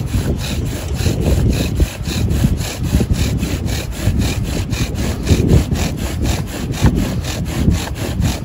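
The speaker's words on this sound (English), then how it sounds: "Let's do another burn in though, just in case." A bow drill spindle burns into damp water oak with steady, rapid back-and-forth friction strokes, a close, loud, rhythmic rasping that continues without pause.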